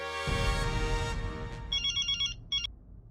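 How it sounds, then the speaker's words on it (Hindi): A telephone rings during a call in a TV comedy scene: a steady tone that fades out first, followed by several short, bright electronic ring bursts in quick repetition, with no talking. "अब किसे फोन कर रहे हैं? मेहता साहब को।"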